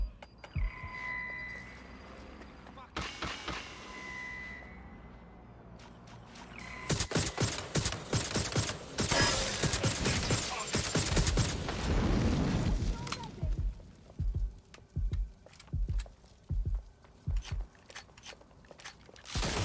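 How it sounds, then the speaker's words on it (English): Gunfire in the video game Watch Dogs Legion: scattered shots at first, then a dense roaring volley of rapid bursts and blasts, followed by sporadic sharp shots near the end, with a voice heard in places. "They're shooting!"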